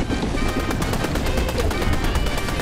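Fortnite video game tank gunfire, a rapid, loud, continuous rattle of shots repeating evenly for the whole stretch, with faint voices mixed in.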